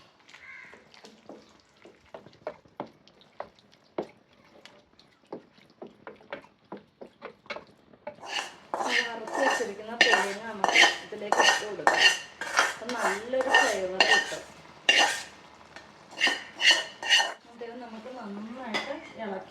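Cassava being mixed with beef gravy in a pot for kappa biryani: sparse light scrapes at first, then a loud run of rapid metallic clanks and scrapes of the utensil against the pot.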